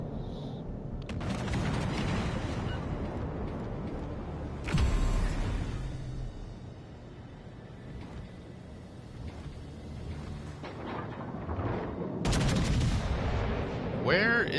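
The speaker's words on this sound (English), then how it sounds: "Start shooting at that one." Naval gunfire in the video game World of Warships: several loud deep booming salvos spaced seconds apart, each a sharp broadband blast with rumbling tail, over continuous low engine-like drone and faint talk.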